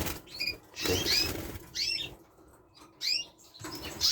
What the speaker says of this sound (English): Very nice birds.